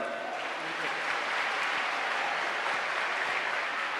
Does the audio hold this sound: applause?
yes